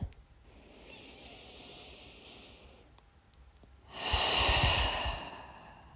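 Slow, deep breathing during a yin yoga session: a soft, drawn-out breath through the first few seconds, a brief lull, then a louder, fuller exhale near the end, close and alone with no talking.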